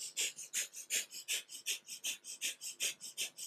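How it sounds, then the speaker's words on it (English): Breath of fire in a kundalini yoga kriya: rapid, rhythmic panting breaths through the nose, about five per second, close and steady with no talking. "Breath of fire, our lovely cleansing, panting breath."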